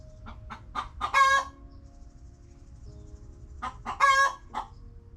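Two bursts of loud, rising squawks from chickens, each led in by a few short clucks, with quiet gaps between and no talking.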